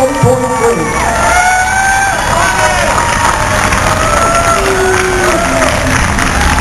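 A large outdoor Tea Party rally crowd cheers, whoops and applauds steadily and loudly throughout, with many voices shouting over the clapping.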